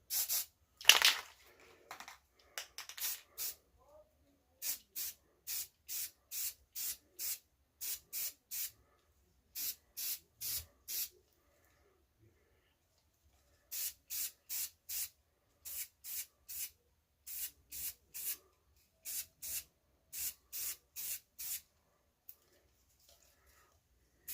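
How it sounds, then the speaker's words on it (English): A Rust-Oleum spray paint can hisses in short, regular test-spray bursts, grouped in clusters with brief silences between, close and crisp. "One more test spray."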